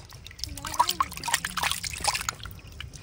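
Water trickling and splashing while fish are rinsed by hand at home, soft irregular dribbles and drips with faint handling, fairly quiet and close, no clear talk.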